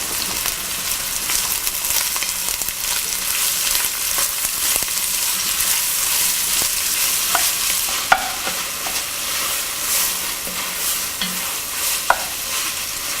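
Sliced onion and salt hiss and crackle in a hot pan while a spoon stirs them, a close, steady sizzle with occasional scrapes and small taps against the pan.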